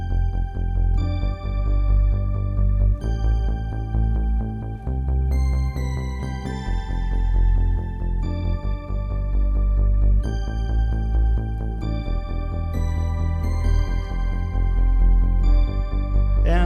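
A bright synthwave synthesizer melody plays over a deep, steady bass line an octave below, repeating a simple pattern with no voices.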